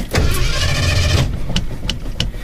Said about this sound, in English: Just going to start it up so you can hear it run.